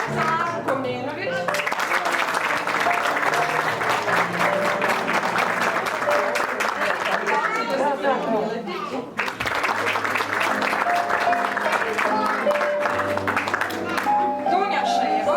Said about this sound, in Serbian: Aplauz za Mašu Komnenović.